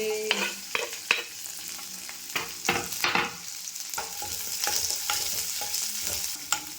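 Green chillies and onions frying in oil in a pan for shavige uppittu, a crackling sizzle broken by repeated sharp spoon scrapes and taps, close and fairly loud, no one speaking.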